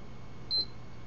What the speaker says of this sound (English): And you'll hear a second beep.